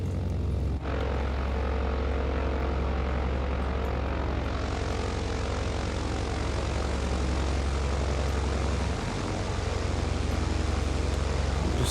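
A BN2 propeller aircraft engine in Microsoft Flight Simulator on Xbox drones loudly and continuously, a dense, steady roar that barely changes from start to finish.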